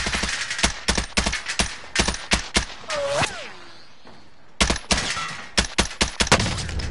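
Rapid bursts of video game gunfire, sharp repeated shots in clusters with a short pause in the middle, loud and close.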